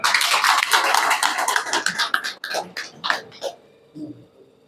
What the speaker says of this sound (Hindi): इनके स्वागत के लिए एक जोरदार तालियां